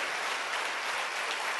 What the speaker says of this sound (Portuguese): Vamos aplaudir ao Senhor Jesus.